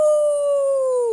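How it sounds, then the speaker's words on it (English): A wolf howls loudly in a single long, steady tone that slowly sinks in pitch, close and alone for about a second, read aloud as part of a children's Elmo dentist story. "Loudly howled the wolf."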